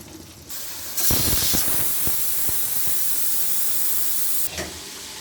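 A pressure cooker cooking chicken broast releases steam in a loud, steady hiss from its whistle, starting abruptly and continuing for several seconds before cutting off, with no voices.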